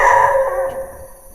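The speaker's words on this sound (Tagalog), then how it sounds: "May aso. May aso." A dog barks and yelps in an abandoned school building, one loud close outburst that trails off over about a second, heard on its own.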